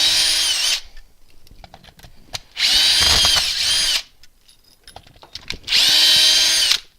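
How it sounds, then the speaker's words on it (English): A power drill backs screws out of an end-grain monkey puzzle wood turning bowl blank, three separate whirring bursts of about a second each with quiet pauses between, close and loud. "So I'll take these 12 screws out of here."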